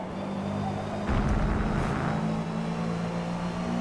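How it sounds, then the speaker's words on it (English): A Subaru engine in the Forza Motorsport racing game holds a steady mid-level drone with a louder swell near the middle, like the car passing close, alone without talk. "Even this Subaru sounds exactly like a Subaru."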